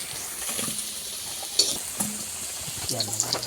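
Potatoes fry in oil in a pan with a soft, steady hiss, joined by a few sharp clinks and scrapes of a utensil near the end.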